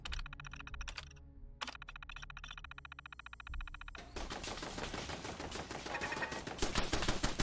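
Automated turrets firing on Archie in Fallout 4, a harsh rapid stream of gunfire that begins after a quieter stretch of mechanical tones and clicks and then keeps rattling on loudly without pause.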